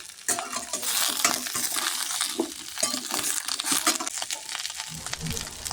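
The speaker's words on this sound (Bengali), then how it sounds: "চিচিঙ্গাগুলো ভালো করে নেড়ে ছেড়ে ভাজা ভাজা করে নেব।" Snake gourd stirred in hot mustard oil in a kadai: a close, busy sizzle broken by repeated scraping and clattering stirring strokes, irregular and continuous.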